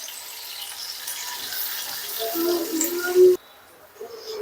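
Ground spice paste with cumin and asafoetida frying in hot oil, a soft continuous sizzle and hiss under faint background sound, ending abruptly with a brief clunk.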